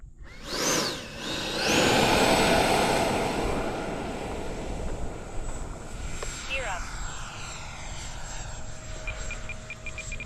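An RC model jet aircraft on its maiden flight spools up with a rising whine, roars past loudly, then recedes into a steady distant hum with shifting tones as it flies.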